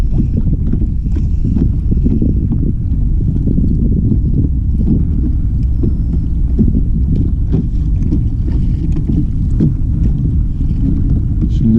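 Strong wind at sea buffets the microphone in a constant low roar, with faint knocks of a small fishing boat on the water beneath it.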